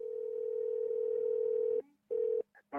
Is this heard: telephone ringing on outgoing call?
yes